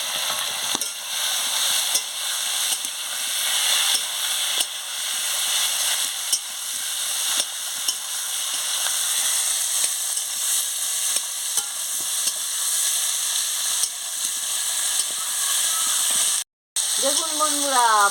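Spice paste with pointed gourd and potato being stir-fried for a fish curry, a loud continuous sizzle with frequent spatula scrapes and clinks, a brief dropout near the end followed by a faint sweeping tone.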